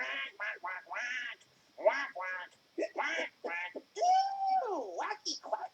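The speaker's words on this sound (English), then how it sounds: "Ooh, wacky quacky, the mallet-wielding duck." A cartoon duck quacks in a string of raspy, squawking bursts, close and fairly loud, with short pauses between the stuttering calls and one long wavering cry.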